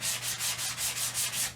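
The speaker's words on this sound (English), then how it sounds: "sanding is a very critical part of the finishing" Hand sanding a wooden mezuzah case to smooth rough edges, a close, rhythmic back-and-forth rubbing with about eight even strokes and nothing else heard.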